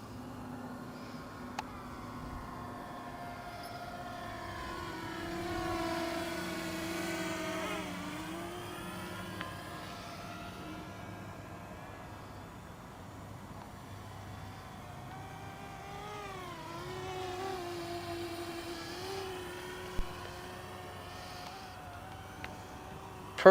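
Bwine F7 Mini GPS drone flying outdoors in a slight breeze, its thin motor whine rising and falling in pitch as it maneuvers, steady and moderately distant, with no talking.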